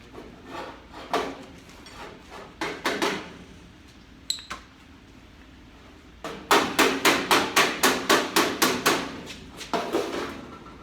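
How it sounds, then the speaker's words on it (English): Hammer blows during a 1964 Ford Fairlane car build in a garage, with scattered strikes early on, then a fast run of about a dozen loud, evenly spaced metallic hits. "Give me that hammer."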